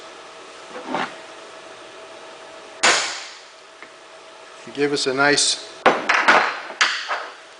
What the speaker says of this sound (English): So we're going to take and put our punch on the center of our marks.